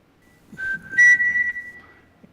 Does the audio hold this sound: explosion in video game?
no